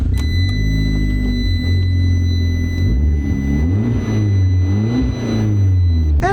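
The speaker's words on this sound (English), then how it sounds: "And it does make a nice rumble through its dual exhaust" A sports car with a dual exhaust idles with a loud, steady low rumble close by, the engine note dipping and swelling slightly as it runs alone for several seconds.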